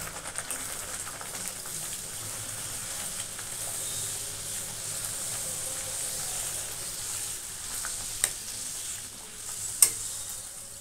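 Pea-stuffed kachuri (Bengali koraishuti kachuri) frying in hot oil: a steady, soft sizzle runs throughout at low level, with a couple of sharp pops near the end and no talking.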